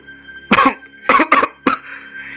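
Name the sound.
cough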